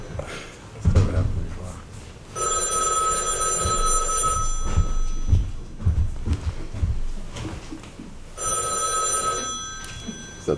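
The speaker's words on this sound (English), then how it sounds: "Is that the red phone?" A red telephone in a selectboard meeting room rings twice in long electronic bursts while people talk over and between the rings.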